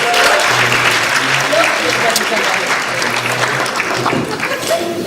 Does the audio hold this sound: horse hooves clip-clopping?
no